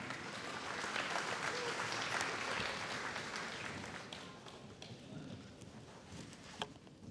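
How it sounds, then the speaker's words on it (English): A crowd at a school graduation ceremony applauds continuously, a broad, fairly distant wash of clapping that holds steady and then gradually tapers off. "a huge, huge round of applause for Class Kavanagh"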